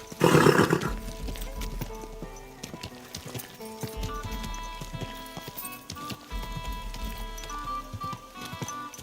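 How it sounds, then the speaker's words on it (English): A horse whinnies loudly and briefly at the start in Kingdom Come Deliverance II, followed by hoof clip-clops over steady game music and ambience. "Don't you know how to keep your horse under control?"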